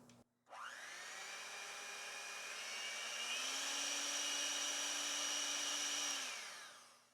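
An electric mixer runs steadily to spin off leftover gluten-free sugar cookie dough, a sustained close motor whine that rises in pitch partway through before winding down, with no voices.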